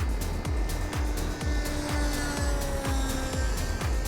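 Wasp model plane flying, a continuous motor whine with a rapid, regular pulsing rhythm, fairly loud and close throughout with no talking.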